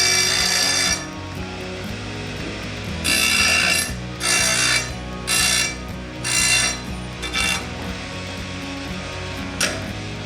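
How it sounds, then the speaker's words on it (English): A cut metal stair baluster has burrs trimmed off its edge with a tool, giving a series of short bursts of scraping, grinding rasps against a steady mechanical background, close and fairly loud. "I'll trim the burrs off the edge of it"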